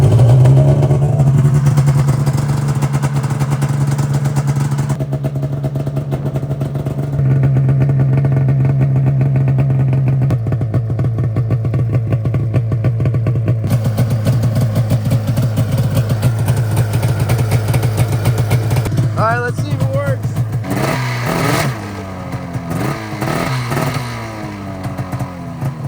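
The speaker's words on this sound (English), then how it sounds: "let's see if it actually fires up and the clutch doesn't stick. So let's give her a start." A snowmobile engine with a freshly rebuilt clutch fires up, idles with a steady mid-pitched drone, then revs up and down in several bursts while running, close and loud with no talk.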